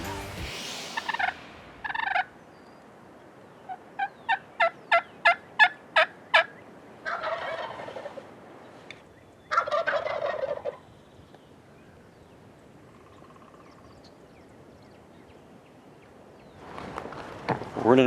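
Young Rio Grande wild turkey jakes in Kansas gobble in short bursts, including a rapid run of repeated gobbles, heard fairly close with quiet gaps between calls.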